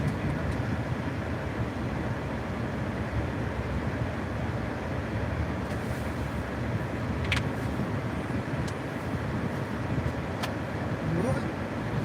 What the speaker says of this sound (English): Moving and grooving, big old semi.